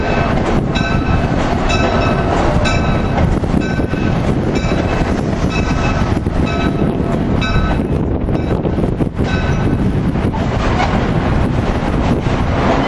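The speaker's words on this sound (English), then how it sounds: "Keystone Train 653 with the Amtrak ACS 64 670 leading." Amtrak Keystone passenger train led by an ACS-64 electric locomotive passing at a busy city station, a loud steady roar of wheels and rail noise with clickety-clack and wind buffeting the microphone throughout.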